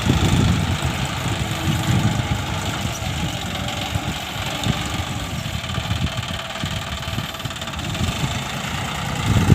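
A John Deere 5050D tractor engine works steadily while plowing a rice paddy, giving a continuous, fairly loud chugging drone with a rough, knocking texture.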